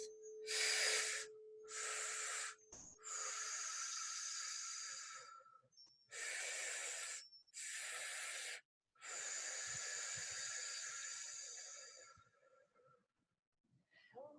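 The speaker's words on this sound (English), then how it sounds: "Second breath into the chest and exhale through the mouth." A person breathes deeply during a guided meditation, inhaling and then exhaling audibly through the mouth, with several long airy breaths separated by short pauses. The breaths are close and soft, and no one speaks.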